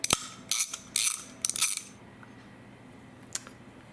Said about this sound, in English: I'll be using 8mm socket to remove these 4